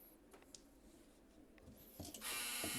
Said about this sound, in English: The dryer is telling us that we should stop. That was the buzzer.